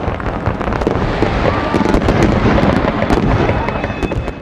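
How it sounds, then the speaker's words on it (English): A dense, continuous barrage of crackling firecracker pops and bangs, loud and close, overlapping without pause throughout. "a cracker or a firework is a small pyrotechnic missile that explodes in a very specific way, creating loud explosions"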